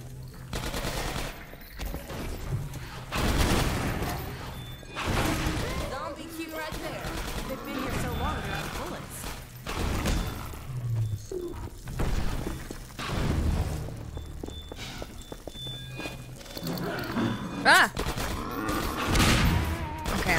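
Automated turrets in the shooter game Half-Life 2: Episode One firing rapid bursts, loud rattling volleys that come in repeated waves over about twenty seconds, mixed with impacts and a player talking over the action.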